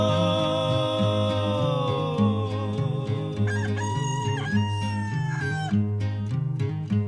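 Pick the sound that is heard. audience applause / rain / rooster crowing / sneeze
rooster crowing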